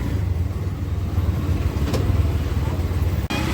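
An auto rickshaw engine idles steadily and close by as the vehicle pulls to the side of the road outside a mall, a continuous low drone with a brief dropout near the end.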